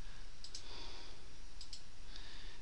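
A computer mouse clicks on a Windows 8 PC, with two sharp double clicks and a single click, close and clear over a steady background hiss.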